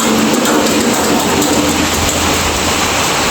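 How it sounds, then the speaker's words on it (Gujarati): Heavy monsoon rain pours down during a thunderstorm in a loud, steady, dense hiss that fills the scene without letup, and no voices are heard. "ધોધમાર વરસાદ ચાલુ છે"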